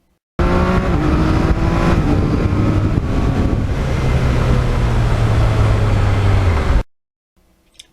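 A 2020 Yamaha MT-09 motorcycle rides along a road, its engine droning loud and steady with shifting pitch under heavy wind rush, close to the microphone, before cutting off abruptly.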